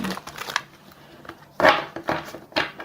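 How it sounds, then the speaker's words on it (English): Quick riffling bursts of tarot cards being shuffled, a few crisp flurries close by with short pauses between them. "One more shuffle"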